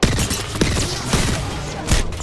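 Gunfire in the Apex Legends video game, with dense bursts of rapid shots and impacts over a couple of seconds, loud and close, mixed with game effects.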